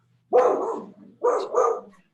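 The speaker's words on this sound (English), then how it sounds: "that's my dog." A dog barks three times, close and loud: one bark, a short pause, then two quick barks in a row, in an otherwise quiet room.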